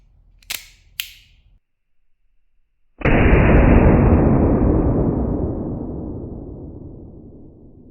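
A blank-firing revolver with an open barrel shoots a blank round loaded with a 4.5mm steel BB, two small clicks followed by a single loud, sharp bang whose roar decays slowly over several seconds, close and alone.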